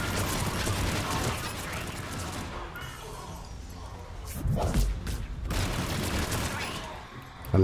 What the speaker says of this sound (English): I love this gun. It's really fucking powerful.